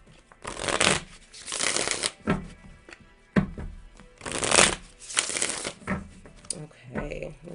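Tarot cards shuffled repeatedly up close, several riffling bursts in a steady rhythm with brief gaps between them.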